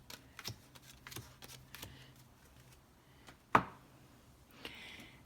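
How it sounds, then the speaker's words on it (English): Tarot cards are riffled and shuffled quietly at close range, soft papery flicks and taps with one sharper snap partway through, no voices. "so that's why I'm shuffling them again before I put them out"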